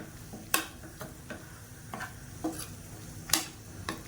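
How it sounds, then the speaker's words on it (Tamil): Chicken pulao with added green chillies stirred in a pan: repeated scraping spoon strokes at an irregular rhythm over a soft, steady sizzle, close and moderately quiet, with no voices. "சேர்த்துட்டு நல்லா கிளறி விட்டுட்டு"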